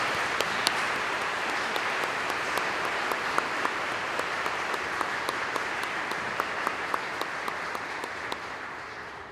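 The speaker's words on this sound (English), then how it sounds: "Let's give them a round of applause for being nominated for this." Sustained applause at a 2021 high school commencement honoring award nominees, a steady clapping crowd with distinct individual claps popping through, fading slightly toward the end.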